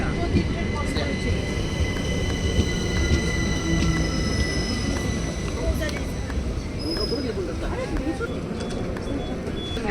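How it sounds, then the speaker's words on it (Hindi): Train rolling past at a station in England, a steady loud rumble of wheels on rail with faint squealing tones and a high whine, continuous throughout, with a voice talking over it. "यहाँ का ट्रेन आपको दिखाती हूँ"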